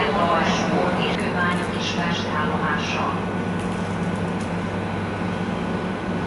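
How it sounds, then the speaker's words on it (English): A freight train rolls toward Budapest Kelenföld station with a steady, heavy rumble and broad rail noise that holds at a constant loudness throughout, with no talk. "Meanwhile, a freight train is approaching."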